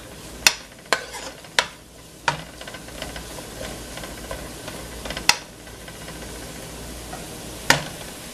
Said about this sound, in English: let it saute for about 2 minutes